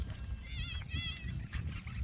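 Goats bought as livestock, with a couple of wavering, quavering bleats rising over a steady low rumble of background noise outdoors.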